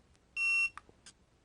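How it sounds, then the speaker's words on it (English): A single clear electronic beep from a TST 507 Series wide-screen tire pressure sensor display as its set button is held, one steady tone lasting about a third of a second, followed by faint clicks in a quiet room. "we're going to hold down the set button until it beeps"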